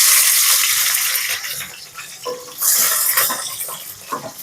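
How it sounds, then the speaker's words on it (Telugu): About ten slit green chillies fry in a little oil in a pan for peanut chutney, giving a close, bright sizzle. It fades slightly, then swells again, broken by occasional clinks of a utensil against the pan. "పచ్చిమిర్చిని వేయించుకోవాలి. కొంచెం ఆయిల్ వేసుకోవాలి."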